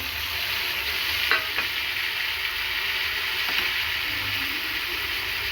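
Garlic sizzles in hot frying oil in a pan, with a steady close hiss and a couple of brief stirring scrapes, no voices.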